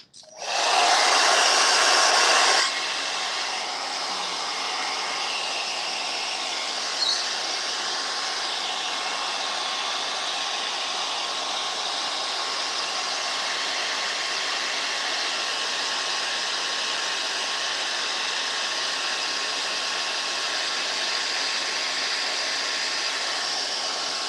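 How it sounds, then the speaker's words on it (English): A blow dryer runs on a DIY home decor box craft project, a loud, steady whooshing whir, strongest for the first couple of seconds and then continuing slightly softer without a break. "I'm going to hit this with a blow dryer"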